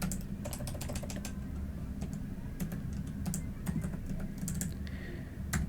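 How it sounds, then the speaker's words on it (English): Rapid, irregular clicking of keys on a computer keyboard, heard close and steady over a low background hum, with short bursts and pauses between keystrokes. "So we're going to type espresso."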